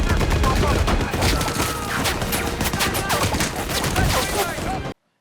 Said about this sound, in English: All right, so firing on the infantry. Let's light them up.